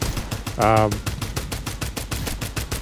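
Rapid automatic weapon fire from Farlight 84 sounds as a steady, evenly spaced string of sharp shots, with a brief tonal alert blip early on. A quiet voice talks underneath.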